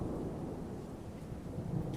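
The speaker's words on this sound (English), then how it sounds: "there's more continuous rain sound" Rain falls with a low rumble of thunder, a dense continuous wash playing quietly as a sound effect for an incorrect answer, with no talking.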